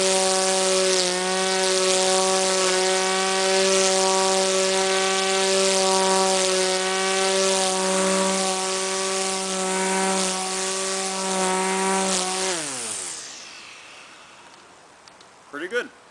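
An electric string trimmer with a 4.1 amp motor cuts grass with a loud, steady high whine for about twelve seconds, then winds down and stops, leaving faint rustling.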